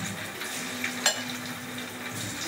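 Chicken pakodi deep frying in hot oil gives a steady, close sizzle with a brief sharp clink partway through.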